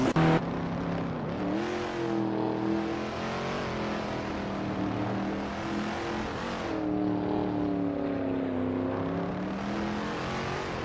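Vintage racing cars, including a Mercedes and a BMW, drone steadily through a racing video game, their engine notes rising and falling in pitch as they accelerate and ease off, loud and continuous with no talk.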